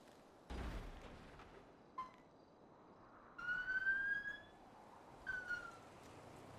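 A faint electronic police siren in the video game GTA wails in two short rising bursts over quiet background noise, preceded by a dull thud.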